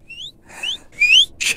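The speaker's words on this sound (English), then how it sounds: "Everyone starts whistling." Several people whistle in short rising tones, three or four separate whistles in quick succession, loud and close, with no talking.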